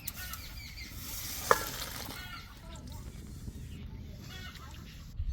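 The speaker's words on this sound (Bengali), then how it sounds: "এবার ফোড়ন দেবো সর্ষের তেল শুকনো লঙ্কা আর তেজপাতা জিরে" Dry red chilli, bay leaf and cumin crackling as they hit hot mustard oil for a Bengali small fish curry, a loud burst of sizzling with stirring that settles into a steady fry.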